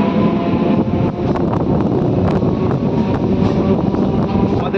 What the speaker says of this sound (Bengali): আমাদের ট্রেন এসে পৌঁছালো তার পরবর্তী স্টেশন বেলবনি।